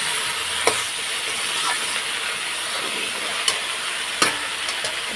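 Pumpkin greens with shrimp, green chillies and salt frying in a pan, a steady hissing sizzle throughout with a few sharp clinks of a spoon against the pan.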